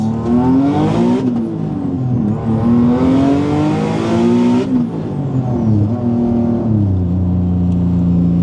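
A Nissan 370Z engine runs loud and close, rising and falling through several revs with harmonics sweeping up and down. The steady throaty drone continues throughout with no talking.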